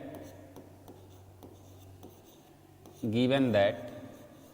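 Chalk or marker writing out the given statements of a Class 9 congruent-triangles geometry problem on a board, a steady soft scratching for about three seconds before a voice breaks in.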